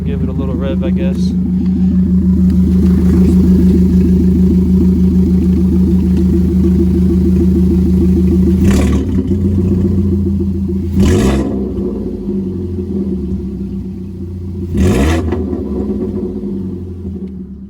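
A catless car engine idles with a deep, throbbing exhaust rumble, then three sharp revs flare and fall back, loud and close.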